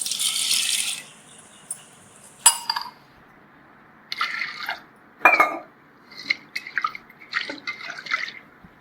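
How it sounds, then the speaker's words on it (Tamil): Water pours into a pressure cooker holding chana dal, an opening splashy gush followed by scattered drips, metallic clinks and short trickles close by in a quiet kitchen, without talk. "இப்போ வந்து கடலப்பருப்பு முழுகிற அளவுக்கு நம்ம தண்ணி ஊற்றிக்கிறோம்"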